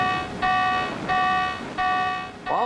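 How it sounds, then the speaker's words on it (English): A warship's klaxon sounds battle stations: three loud, sustained electronic bongs, each about half a second long and evenly spaced by pauses, with the start of a fourth at the end. "All of a sudden you hear that bong, bong, bong, bong going, the klaxon going off."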